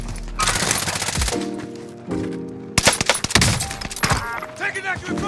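Rapid automatic gunfire in the Warzone battle royale game, with dense bursts of close shots, clattering hits and breaking sounds, broken by short pauses and overlaid with game effects and voice chatter.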